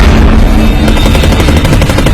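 Gunfire from an aircraft during a 1977 attack, heard as a dense, continuous volley of rapid shots over a steady low rumble, loud and without speech.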